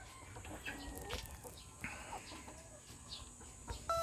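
Chickens cluck and murmur close by, several birds making short, overlapping calls against a faint background hum.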